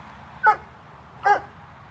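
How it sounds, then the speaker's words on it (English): Two short, clear barks from white German Shepherd dogs, spaced under a second apart, close by over a quiet background hum. "So Apollo and Leyla are white German Shepherds"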